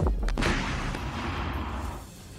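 Gunfire and rocket blasts from fighting at Azovstal in the Russia–Ukraine war: a sharp close blast at the start, then more cracks and a rolling, booming rumble that slowly fades, with no voices.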